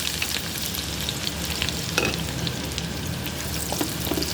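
Onions sizzle steadily in hot oil in a pan, a continuous fine crackle with a few stirring scrapes, close and alone with no voices.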